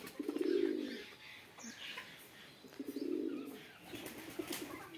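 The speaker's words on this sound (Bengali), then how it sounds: "এই যে আমাদের কবুতর" Shiraji pigeons coo in two low, rolling phrases near the start and middle, with soft chirps and rustling from a farmyard loft between them.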